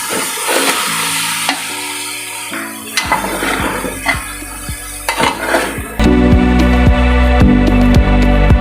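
Meat stir-fries in a pan with steady sizzling and repeated scraping, clattering stirs of a utensil against the pan, the frying growing louder and fuller toward the end.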